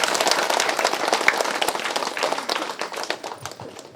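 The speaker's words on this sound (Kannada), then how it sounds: "ಅವ್ರಿಗೆ ಜೋರಾಗಿ ಚಪ್ಪಾಳೆ" An audience claps loudly at a pyramid meditation centre's anniversary function in Somasamudra village, Ballari; dense applause starts strong, then thins and fades over a few seconds.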